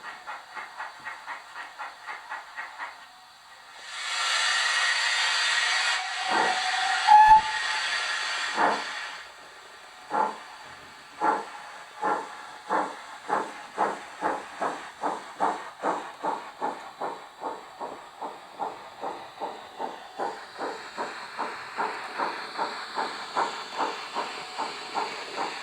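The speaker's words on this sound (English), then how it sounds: "The light mode is basically less loud and less chuffing sound noise." A steam locomotive in a train simulator game, in light mode, gives a long burst of steam hiss and then settles into a steady, fairly soft chuffing rhythm that continues alone.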